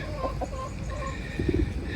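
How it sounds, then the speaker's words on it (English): Backyard hens clucking in soft, scattered bursts, a big fluffy flock nearby on a farm setting, with low background noise and no clear talk. "Man, I love these chickens."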